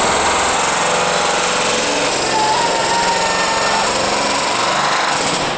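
Jackhammer in a video game: a loud, continuous rattling mechanical roar that holds steady throughout and fades only at the very end.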